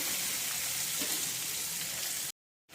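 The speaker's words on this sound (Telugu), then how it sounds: "ఆనియన్స్ మంచిగా ఇట్లాగా లైట్ బ్రౌన్ కలర్ వచ్చే వరకు ఇట్లాగా కలియపెట్టుకుంటూ ఉందాము" Onions sizzle steadily while frying in a pan and being stirred, a dense close crackle that holds evenly before cutting out briefly near the end.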